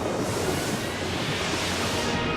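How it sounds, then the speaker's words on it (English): Voltigar, a boss's electric attack in Skies of Arcadia Legends, rushing as a dense, steady roar of broadband noise like surf or wind, loud and unbroken throughout with no voices. "So here's its other attack, Voltigar"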